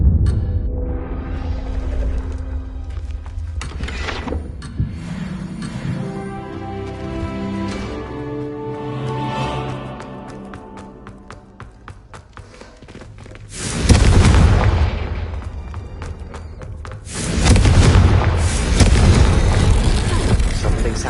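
Fiery Confringo blasting spell from Hogwarts Legacy, booming twice in loud, broad bursts partway through and near the end, over quieter game music and ambience.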